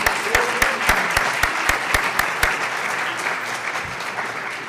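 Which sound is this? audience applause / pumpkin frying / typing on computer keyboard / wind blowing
audience applause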